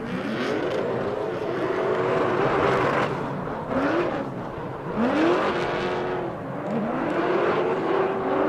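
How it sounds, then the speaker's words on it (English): Drift car at an LS Fest West drift competition revving repeatedly while warming its tires, with rising and falling engine sweeps at steady volume over a continuous backdrop of other engine noise. "over here warming up his tires."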